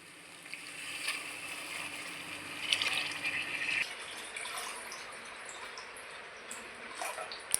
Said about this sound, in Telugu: మొత్తం 4 గ్లాసులు ఎసురు పోసేసుకుంటున్నాము.